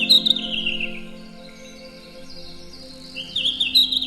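Birds sing in a Finnish nature reserve, high warbling phrases at the start and end over a steady low background hum, fairly faint and distant, with no talking.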